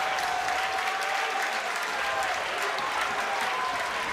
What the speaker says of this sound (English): Crowd very appreciative.